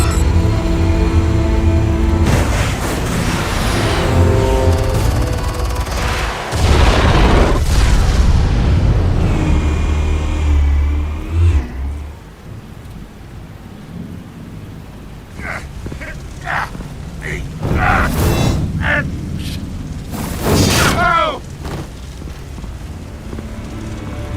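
Explosives detonating in a game scene, a run of heavy booms and rumbling blasts for the first half, then scattered sharper impacts and debris crashes at lower level, with some voices and music underneath.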